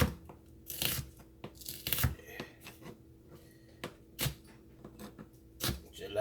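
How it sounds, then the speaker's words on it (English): A knife slices through an onion on a cutting board, a string of crisp, uneven crunching cuts with short pauses between them, close and fairly loud. "we just gonna slice our onion. We just gonna slice it."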